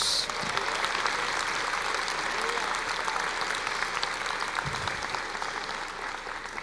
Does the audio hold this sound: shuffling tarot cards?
no